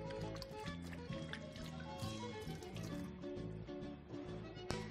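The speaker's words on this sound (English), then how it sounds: "So I'm gonna wash my hands now." Running water from a tap flows steadily as hands are washed in a kitchen, a faint continuous splashing and trickling at moderate distance with no talk.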